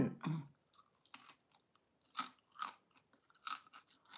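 Crunchy chewing of bacon at breakfast, with several bites and munching bursts spread across the moment, close and fairly quiet with pauses between them.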